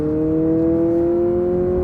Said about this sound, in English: This has a dual exhaust on it, and it really makes a good sound.